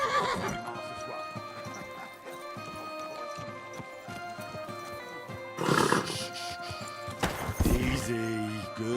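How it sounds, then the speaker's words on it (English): A horse in Kingdom Come: Deliverance 2 whinnies and stamps over layered game music, with a sharp neigh partway through and a louder burst of hoof and movement sounds near the end. "Easy, good horse."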